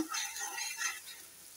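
Shrimp and onions fry in a pan, a soft, hissing sizzle with a brief stirring scrape, fairly quiet and fading toward the end.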